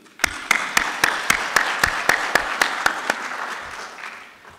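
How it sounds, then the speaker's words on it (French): Graduation ceremony audience applauds, a dense wash of clapping punctuated by loud, regularly spaced claps close by, holding steady for several seconds before easing off slightly. "Vous pouvez être fiers de vous, vous pouvez vous applaudir."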